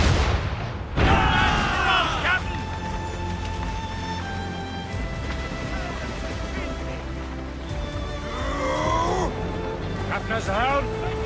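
Ship cannons boom in a naval battle in the video game Assassin's Creed Rogue, with a few heavy blasts amid crashing waves and ongoing ship noise, while crew voices shout over the action.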